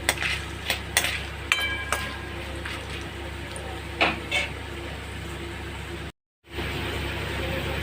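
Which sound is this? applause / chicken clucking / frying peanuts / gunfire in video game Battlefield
frying peanuts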